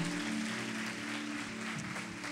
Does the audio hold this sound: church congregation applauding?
yes